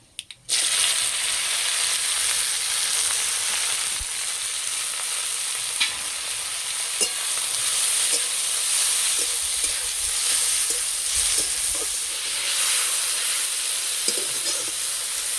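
Sour greens (chukur shak) hit hot oil seasoned with whole mustard seeds and dried chillies, and a loud, steady sizzle follows with intermittent stirring scrapes throughout, with no voices.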